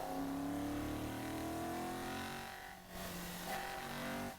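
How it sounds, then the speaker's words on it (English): An MGB GT V8 classic race car pulls hard up the back straight at a Scottish circuit. Its engine note climbs and grunts loudly with rising harmonic tones, briefly dips, then surges again, heard from trackside. "Great sound from Alistair Bapty's MGBG TV8."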